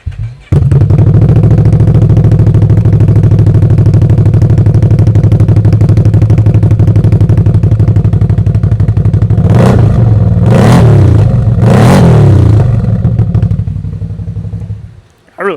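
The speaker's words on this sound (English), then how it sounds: "Let's go ahead and fire this thing up and see how it sounds." A Gen 3 Can-Am Outlander ATV fitted with an MBRP exhaust cranks and fires up, settles into a loud, throaty idle, then revs sharply two or three times before shutting off.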